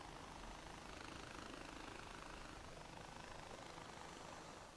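Helicopter engine in the video game Far Cry 4, a steady, dense rotor-and-turbine drone held at an even level throughout, with no talk over it.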